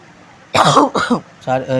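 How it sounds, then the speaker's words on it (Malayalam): A person coughs a couple of times close to the microphone, short harsh bursts separated by brief pauses, followed by a moment of speech. "ചുമയാണ്"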